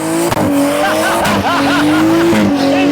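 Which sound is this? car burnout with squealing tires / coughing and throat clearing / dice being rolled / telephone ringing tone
car burnout with squealing tires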